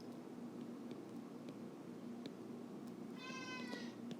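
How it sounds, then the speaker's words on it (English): A house cat gives one brief, faint meow near the end, set against quiet indoor room tone. "Oops, did you hear my kitty cat?"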